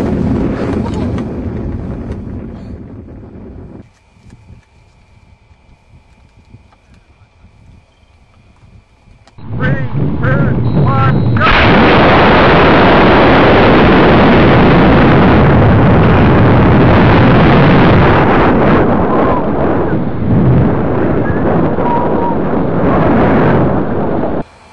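A water rocket fires from its launcher on a launch day: after a quiet stretch with a faint tone, a sudden loud whooshing, spraying roar bursts in and stays strong and close for about fifteen seconds, mixed with wind buffeting.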